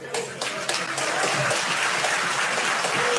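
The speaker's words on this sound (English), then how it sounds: "ANC clapping hands." Members of parliament clap their hands in a noisy chamber, a continuous wash of applause with a murmur of voices mixed in.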